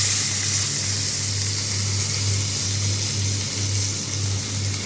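Plums (alu bukhara) going into a pan for chutney, heard as a steady close-up sizzle and hiss over a low hum, continuous for the whole stretch.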